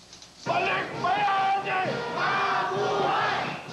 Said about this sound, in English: The crowds at Manila Airport chanted, "Long live the returning heroes,"